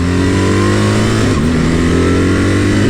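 A BMW R1300GS motorcycle accelerates hard, its loud, close engine roar climbing steadily, with a brief dip as the quick shifter snaps through a gear change before the pull resumes.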